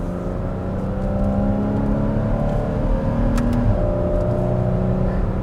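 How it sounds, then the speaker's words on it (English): Porsche 981 Cayman fitted with the factory sport exhaust accelerating, a loud, smooth, steady engine drone with rising harmonic tones heard from inside the car, alone without talk. "sport exhaust in this car, very smooth, a little bit louder"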